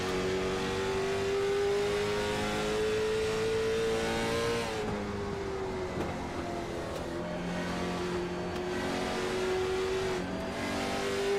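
The engine of the 02 Cadillac race car in a racing video game drones steadily from an onboard view at North Wilkesboro Speedway. It holds a loud, sustained tone that rises, then dips and shifts pitch as the car works through the lap.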